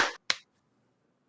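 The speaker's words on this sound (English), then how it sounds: "everybody in 1, 2, 3, clap" Two sharp claps from an audience clapping on a count before a live internet taping, quick in succession, then near silence with a faint thump at the end.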